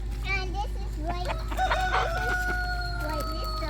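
A rooster crows nearby with a long, wavering call, joined by other birds' clucks and calls over a steady low hum.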